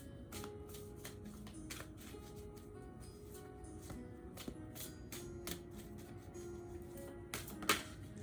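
A Modern Spellcasters Tarot deck is shuffled by hand, repeated soft riffling and tapping of cards, close and quiet, with no talking.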